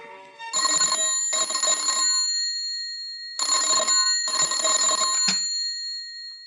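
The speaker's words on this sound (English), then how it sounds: "The next afternoon, the telephone rang in John Davis's office." An old-fashioned telephone bell rings in an office, two double bursts of bright metallic ringing with a pause between, clear and close with no talking, as a 1952 radio drama effect.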